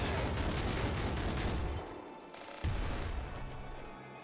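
Maelstrom revolver gunfire in the game Nuclear Throne, a dense rapid burst of loud booming shots that fades partway, then one more sharp blast with a decaying tail.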